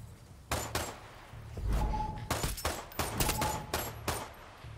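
Pistol gunfire in a combat video game: repeated sharp, loud shots in quick bursts and single cracks, with brief gaps and some rattling, breaking-like noise between them.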